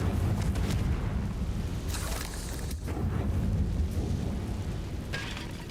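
Bombarda and Confringo spell blasts in the Hogwarts Legacy video game, a dense, continuous roar of explosive rumbling with bursts layered close together, loud throughout and briefly easing midway.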